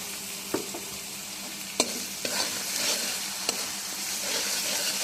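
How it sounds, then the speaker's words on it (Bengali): Mutton fries with an onion and garlic paste in a pan, a constant hissing sizzle broken by several sharp clinks and scrapes of a spoon as it is stirred. No one talks. "নাড়তে থাকবো।"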